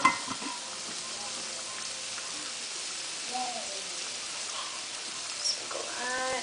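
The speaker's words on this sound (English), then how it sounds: "Stir it up and make sure we get all that flavoring that we've added in the oil onto the vegetables" Seasoned vegetables sizzle softly in oil while being stirred, a faint, steady crackle with occasional scraping sounds, and a voice briefly speaks in the background.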